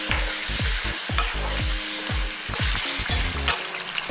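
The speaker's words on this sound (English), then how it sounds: "Give it a nice mix." Cumin and coriander powder with salt are stirred in a hot pan, the spatula scraping in quick repeated strokes over a constant close sizzle of frying, with no talking.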